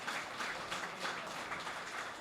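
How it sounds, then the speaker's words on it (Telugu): Loud, steady applause from an audience at a PMC event speech, a dense continuous wash of many hands clapping with small rhythmic surges throughout. "కాబట్టి వారు గట్టిగా క్లాప్స్ కొట్టుకుందాం"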